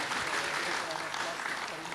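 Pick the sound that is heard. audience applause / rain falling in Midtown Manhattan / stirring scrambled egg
audience applause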